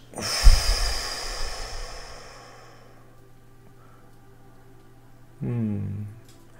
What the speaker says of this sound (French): Alors, une respiration ensemble.